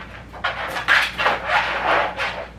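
A dog in a kennel pants and huffs in quick, breathy bursts, fairly close, with no voices over it.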